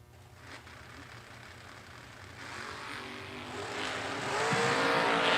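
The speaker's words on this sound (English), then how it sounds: "We got a drag race, 3 thou between them." Drag race cars, including a Camaro in the no-box class, roar under a steady, loud broadband engine rumble. The roar builds and grows louder toward the end, with no talk.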